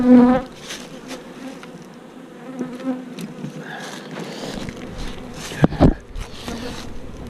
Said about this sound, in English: That thing, a lot of bees down there.